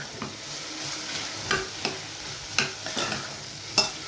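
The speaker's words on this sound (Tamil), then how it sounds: "ஸோ வெங்காயம், தக்காளி, பச்சை மிளகாய், இஞ்சி, பூண்டு எல்லாமே நல்லா காய் நல்லா வதங்கணும்." Onion, tomato, green chilli, ginger and garlic sauté in a pan for a mushroom vegetable kurma, a soft sizzle broken by several sharp spoon-against-pan stirring clicks, close and alone.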